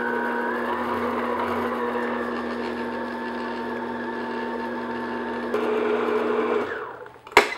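A stand mixer beats thick chocolate peanut butter cupcake batter at medium-low speed, giving a steady, close motor whine with a constant hum that changes near the end as the motor winds down and stops.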